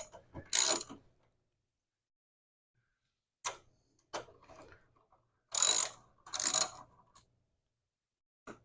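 Ratchet wrench loosening a bolt on a Honda Ruckus scooter during a fuel filter change: a few short bursts of quick ratcheting clicks spread across the clip, close and fairly loud, separated by silence.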